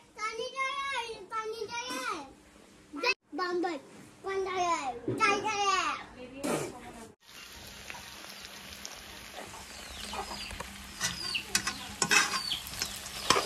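Meat fries in a pan with a soft, steady sizzle and occasional stirring scrapes, audible on its own in the later part after a voice and other talk early on.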